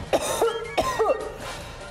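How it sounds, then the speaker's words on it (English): A few sharp coughs close by, two or three quick bursts followed by a short pause and another cough. "why are you coughing?"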